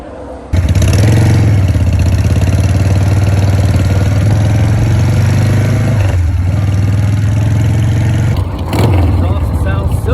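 A Harley-Davidson Sportster motorcycle starts up and settles into a loud, deep, rumbling exhaust idle close by, with a brief dip in the exhaust note near the end.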